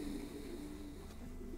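Racing pigeons coo softly in a loft, a low continuous burbling call heard close and unbroken with no talk over it.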